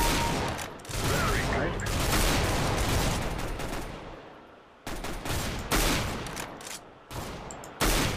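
Gunfire in Counter-Strike: Global Offensive, heard as repeated loud bursts of rapid shots with brief pauses between them. A voice speaks briefly over the shooting.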